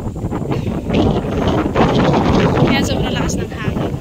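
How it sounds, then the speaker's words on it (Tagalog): Strong wind on a seaside hill in Batangas batters the microphone in a loud, continuous roar of close gusts, with a voice mixed in under the noise. "Ayan, sobrang lakas ng hangin."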